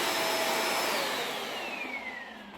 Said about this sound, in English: Well, the vacuum cleaner,